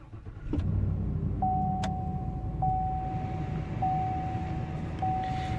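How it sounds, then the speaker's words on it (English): A 2020 Chevrolet Silverado LT pickup starts up on a chilly morning at -1 degrees, its engine catching quickly and settling into a steady, loud idle rumble, with a repeating electronic chime sounding over it. "So I'm just gonna start the truck here."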